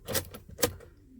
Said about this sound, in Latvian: Atslēgu mēs varam izvilkt.